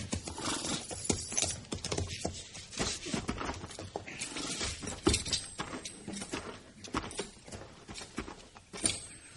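Horses walking on hard ground, hooves clip-clopping in a steady irregular patter, fairly close and quiet, with no talk over them.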